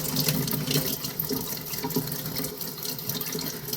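Water runs steadily from a faucet into a sink while plant water is cleaned out, a dense continuous splashing rush heard close and fairly loud with no pauses or talk.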